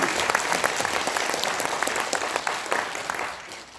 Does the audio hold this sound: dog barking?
no